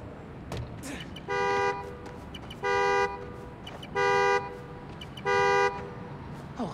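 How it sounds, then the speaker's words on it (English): A car horn in the Spider-Man: Miles Morales video game sounds four evenly spaced, loud blasts against a steady city ambience. "Find the horn, find the car."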